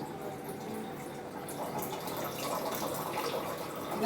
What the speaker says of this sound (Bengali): অ্যাকোয়াগার্ডটা চালিয়ে দে এখানে জল নেই